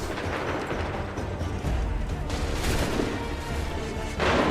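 Musket volley in Assassin's Creed III, a dense rumbling wash of massed gunfire with heavier blasts, loud and sustained over the whole moment.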